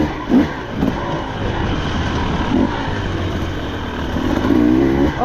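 A 2024 KTM 300XC-W two-stroke dirt bike fitted with a TSP head and ECU tune, its engine droning loudly and steadily nearby with small swells in throttle.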